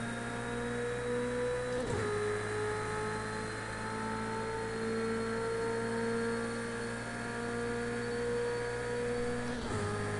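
Race car engine in Project Cars 2 climbing steadily toward the redline, a loud sustained mechanical drone with rising pitch, briefly dipping at gear shifts near the start and end, with no talk over it.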